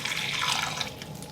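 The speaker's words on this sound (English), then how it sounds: "Gonna water that plant a little though." Water pours from a small container onto a potted plant inside a tarantula enclosure, a close, steady splashing trickle that tapers off toward the end.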